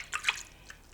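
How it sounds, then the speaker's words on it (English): Water poured into a half-filled strawberry protein shake, heard as a few short, light splashy drips and trickles close by, quiet and brief with no talking. "So I'll just make up the rest with water"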